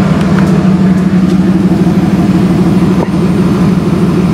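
A car engine idles steadily up close, a smooth rhythmic low chug with one brief dip in level.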